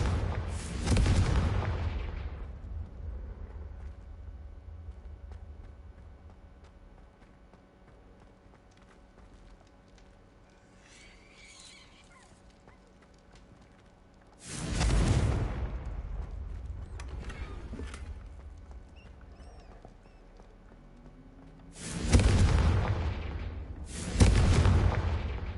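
Confringo spell explosions in Hogwarts Legacy, a video game: a few loud, booming blasts spaced far apart, with one early burst, a lone one midway and two close together near the end, and long low rumbling quiet between them.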